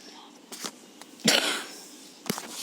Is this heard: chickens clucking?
no